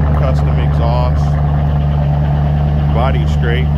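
A Mercedes-AMG S63 with a custom exhaust idles loudly with a deep, steady exhaust rumble throughout, while a person talks over it.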